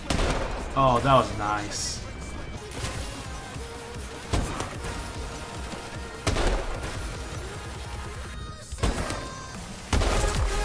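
Gunfire in a free-for-all sniping match of a first-person shooter. Sharp, loud single shots crack out every couple of seconds over busy game noise, while someone talks excitedly near the start.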